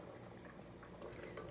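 Rice water boils in a pot with a soft, steady bubbling and faint popping, quiet and close, with no talking.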